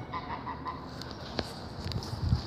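Geese in a backyard flock, one male and two females, honk with a few scattered calls over a steady background rumble, moderately near, with no one speaking.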